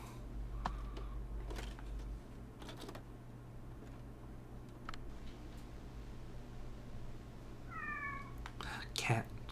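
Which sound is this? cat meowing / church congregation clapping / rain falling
cat meowing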